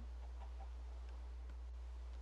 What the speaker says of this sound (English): there's our chicken friend that is going to be our first